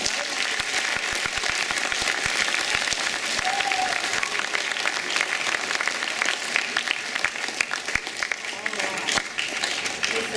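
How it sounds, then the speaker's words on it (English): A high school gathering bursts into dense, continuous clapping after a building renovation announcement, the applause steady and fairly loud for several seconds, with some voices mixed in. "So how about a round of applause for everybody?"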